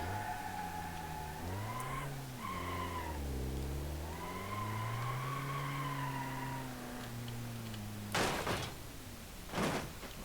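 An Ibishu Kashira 2.5TD DX in BeamNG.drive on a grid map. Its engine note rises and falls through the gears, then two sharp, loud crashing impacts hit close together near the end as the bumper breaks off.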